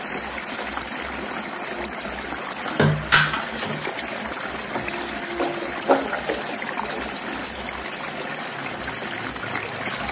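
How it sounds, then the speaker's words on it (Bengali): Water trickles steadily into appam batter for several seconds, a soft continuous pour with a brief louder splash near the start and no talking. "আর একটু অল্প পরিমাণ জল দেবো।"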